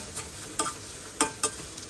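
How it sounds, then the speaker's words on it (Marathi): Cumin seeds sizzle in hot oil with a quiet, steady fry, broken by a few sharp pops and crackles at irregular moments. "इथे मी जिऱ्याची फोडणी देत आहे"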